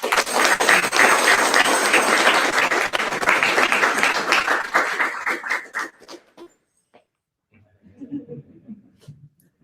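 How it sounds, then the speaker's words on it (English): A scholarship awards audience claps in a dense, loud burst for about six seconds, then it stops abruptly, followed by near silence and a brief murmur of voices. "And can we get one more round of applause for Mr. Santos, please?"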